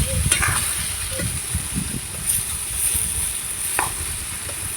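Pumpkin with shrimp, salt and turmeric is sautéed and stirred in a pan, giving a soft, continuous sizzle with scattered scraping and stirring taps, close and moderately quiet.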